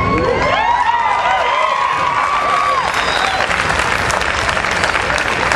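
A large audience at a patriotic service event breaks into loud, sustained applause with cheering and whoops. A shrill whistle-like tone rises above the crowd noise early on.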